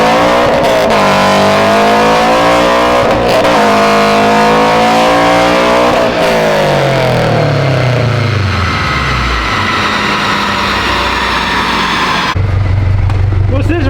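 A 2022 Subaru BRZ engine revs hard on a dyno and climbs in pitch, then winds down with a lower rumble before revving up again; voices are faintly audible under the roar.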